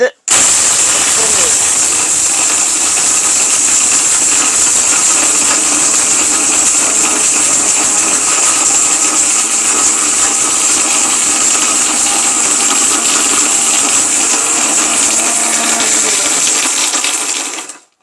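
A Panasonic blender grinds hard dried turmeric, a loud, continuous motor roar with rattling pieces inside the jar that runs steadily for about seventeen seconds before cutting off abruptly.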